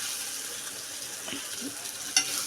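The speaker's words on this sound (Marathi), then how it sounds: "आता आपण हळद इथे परतून घेत आहोत" Onion, tomato and turmeric sautéing in a pan for a capsicum-potato dish, a soft steady sizzle with faint stirring scrapes and one sharp utensil clink near the end.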